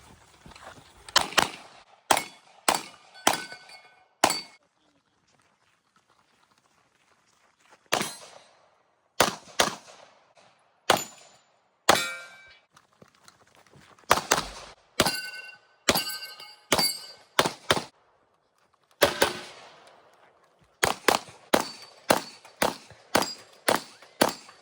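Rapid, loud, close gunshots at a 3-gun competition stage during Fall Fest, fired in quick strings separated by brief pauses, with sharp cracks and no audible talk.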